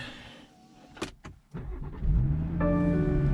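A 2017 BMW 440i Coupe starting: a couple of faint clicks and a brief whir, then the engine cranks and catches, settling into a steady close idle with a rising tone.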